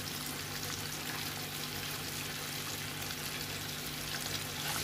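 Popcorn chicken deep-fries in oil over a medium flame, giving a faint, even bubbling hiss that holds steady throughout over a low background hum.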